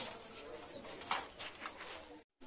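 Pet pigeons coo softly and intermittently in the background, faint and somewhat distant, with rustling around them and a brief dropout near the end.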